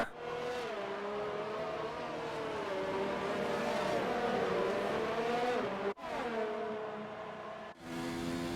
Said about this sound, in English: These cars are going 2 by 2